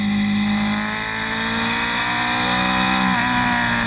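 A 2014 Honda VFR800F engine pulls hard under acceleration with a dense, continuous roar. Its tone climbs gradually, then shifts abruptly near the end as the VTEC system engages around 7,000 rpm, and no one talks.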